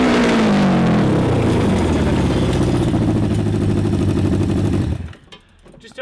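A 550cc engine in a Little Tikes toy car, with burnt points, runs roughly and loudly close by, a steady uneven rumble and rattle that cuts off abruptly near the end, leaving faint background noise.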